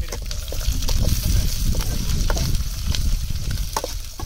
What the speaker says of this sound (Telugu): కట్ చేసుకున్న ఆనియన్, దాంతోపాటు పచ్చిమిర్చి మొత్తం వేసుకొని దీన్ని బాగా ఫ్రై చేయాలి